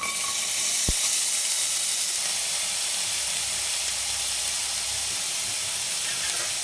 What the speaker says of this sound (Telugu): నేను కొబ్బరి నూనె వేస్తున్నాను చక్కగా కలపాలి ఇప్పుడు కాకరకాయ ముక్కలు వేయాలి